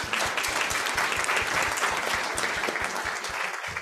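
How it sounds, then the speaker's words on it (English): Workshop audience applauding, dense steady clapping from many hands that fades slightly toward the end. "Round of applause"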